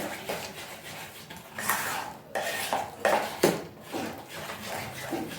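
Cake batter beaten in a bowl, producing irregular clattering scrapes and knocks of a utensil against the bowl, moderately loud and close, with no talking.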